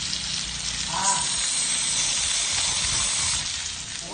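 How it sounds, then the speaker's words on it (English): Burgers sizzle steadily in a hot pan, a continuous close hiss of frying meat that runs the whole time without pause, with faint voices in the background. "It's called the sizzle sound"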